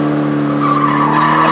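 Tires of a Toyota 86/BRZ skidding during a drift on a track, a loud sustained squeal over a steady engine drone, close and continuous through the brief stretch.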